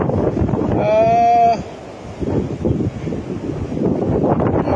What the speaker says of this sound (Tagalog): Wow, the wind is so strong